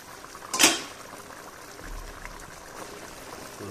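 Spicy pepper chicken is stirred in a pan while cooking, a single sharp scrape of a utensil against the pan over a steady low sizzle, close by with no talking.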